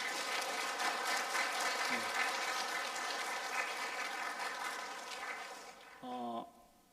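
Encouraging applause from a church congregation for its youth group, broad and steady at a fair distance, fading toward the end as a brief tonal sound cuts in.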